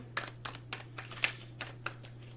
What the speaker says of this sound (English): Shuffle these up for you.